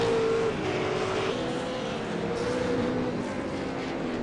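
V8 Supercars race cars run at Interlagos, a continuous engine drone with shifting pitch as the cars pass and gear changes, heard at moderate distance for the whole clip.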